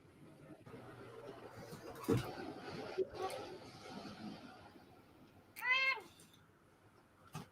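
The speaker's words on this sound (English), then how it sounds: "I just come in and the cat starts meowing." A house cat lets out a single rising-and-falling meow late in the stretch, heard over a low room hum with a few dull knocks and thumps earlier on.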